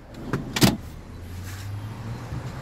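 A power seat motor in a 2018 Volkswagen Atlas SEL Premium with captain's chairs runs with a low, steady electric hum, preceded by a couple of sharp clicks and thumps.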